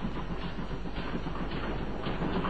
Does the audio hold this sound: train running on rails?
yes